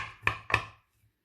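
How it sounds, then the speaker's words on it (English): A knife cuts into a freshly baked apple cobbler, making two quick, crisp crunching strokes close up, then quiet. "now we're going to cut the apple cobbler"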